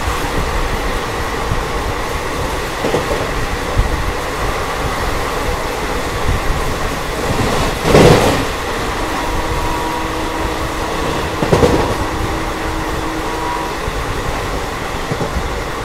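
The Begumpura Express passenger train runs steadily after pulling out of a station, with a continuous rumble heard from inside a 3rd AC coach and occasional louder clanks and squeals of the wheels.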